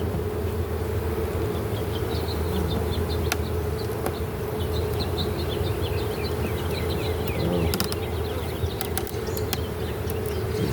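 Honeybees buzz steadily and loudly throughout a hive split inspection, a dense continuous drone with a few faint higher tones drifting over it and no talk.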